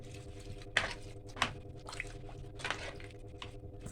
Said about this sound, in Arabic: هنزل بكمية الرز بتاعتنا على الجمبري وهقلبه في بعضه